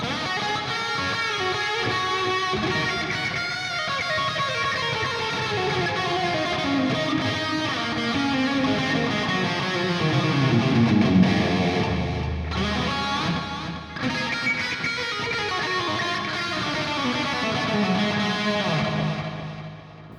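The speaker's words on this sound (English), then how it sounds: "Get it together with the delay, and you can get really nice solo tones." Distorted metal guitar solo through an Audio Assault AHM 5050 amp with delay, sustained singing lead notes and bends trailed by echoes, loud and continuous for about twenty seconds.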